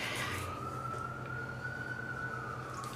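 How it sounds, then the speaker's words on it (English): A distant siren holds a steady wail under a broad background rumble, faint and continuous throughout. "There goes the siren I heard earlier."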